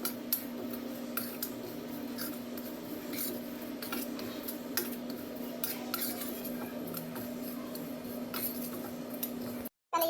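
Whole black peppercorns dry roasting over low heat in a pan, stirred with a spoon, giving steady scraping and rattling strokes with a constant background hum and no talking.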